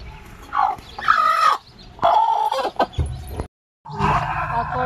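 A bald-looking farm hen clucks repeatedly with her chicks, in short close bursts separated by brief pauses and one moment of silence.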